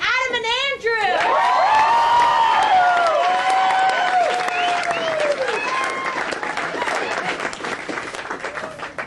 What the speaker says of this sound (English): please give a big round of applause to Adam and Andrew